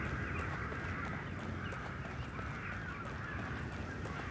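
A dense flock of birds calls in the video game The Evil Within, a continuous noisy chorus of honking, quacking cries filling the scene steadily with no break or talk.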